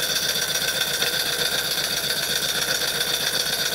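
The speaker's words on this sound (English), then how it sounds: "saw motor running. I don't know if you can tell that it's running or not, but it is" A rebuilt Jensen 51 toy steam engine drives a small saw motor and generator, giving a steady, fast mechanical whir and chatter that runs evenly throughout, close and continuous with no talking.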